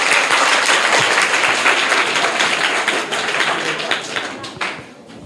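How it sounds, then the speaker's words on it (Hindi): Loud, sustained applause from a crowd at a government school quiz in Bihar, dense clapping throughout that thins and fades toward the end. "जोरदार तालियां।"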